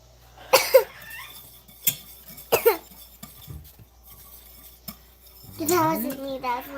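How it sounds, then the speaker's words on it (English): A person coughs sharply twice near a stove where grits cook at a rolling boil, with faint kitchen clatter and a voice speaking briefly afterward. "That wasn't me, that was my cough."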